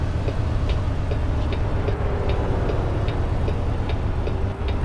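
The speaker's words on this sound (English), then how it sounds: "We listen to this awesome MX engine." A Peterbilt Model 579 truck's MX diesel engine drones low and constant, heard from inside the cab with windows down, faint road noise and occasional light ticking.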